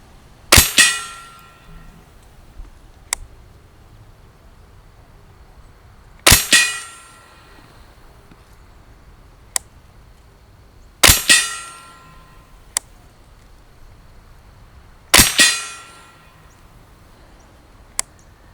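A Ruger 10/22 LVT rifle fires subsonic rounds at an outdoor range: four sharp, separate reports spaced several seconds apart, each followed by a short ringing tail, with faint metallic clinks between shots.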